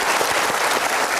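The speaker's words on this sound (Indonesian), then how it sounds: "Boleh kasih tepuk tangan?" An audience applauds, a dense patter of many hands clapping steadily, close and loud throughout.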